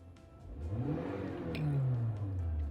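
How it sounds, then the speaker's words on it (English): A car engine revs up steadily while in park, its pitch rising and then falling, close by with no talking. "You rev the engine right on the spot before you selected the gear"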